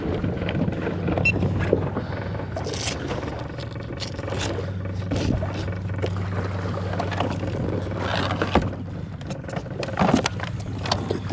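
Boat motor running while trolling on Lake Erie, a low steady engine hum under gusts of wind buffeting the microphone, with scattered knocks and splashy bursts, no talk.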